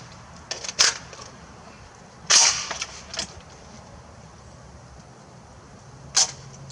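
Sharp metallic clicks from an HK 93 rifle as its firing pin strikes a dud round and the action is worked, three distinct snaps spread over several seconds with faint handling noise between them.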